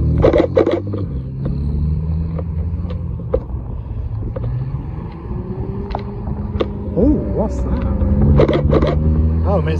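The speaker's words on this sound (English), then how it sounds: "Mitsubishi GTO." Low, rumbling engine of a Mitsubishi GTO passing as supercars leave a car festival, a steady roar with turbo-like whines and short bursts rising and falling over a continuous hum, with crowd and other traffic noise throughout.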